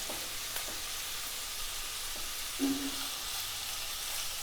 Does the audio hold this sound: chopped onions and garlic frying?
yes